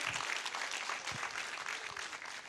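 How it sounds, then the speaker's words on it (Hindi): Applause from an audience at a political speech, steady and moderately loud, filling the whole stretch as a dense wash of clapping with no talk over it. "एक ताली तो बजा के उनका स्वागत कीजिए"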